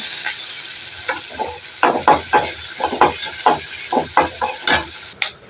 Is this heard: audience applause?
no